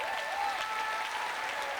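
An audience at a poetry slam applauds a poet after the judges' scores, a dense, steady wash of many hands clapping at even loudness throughout, with no voices rising above it.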